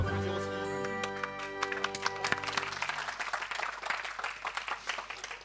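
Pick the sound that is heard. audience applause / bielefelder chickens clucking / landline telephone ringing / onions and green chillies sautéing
audience applause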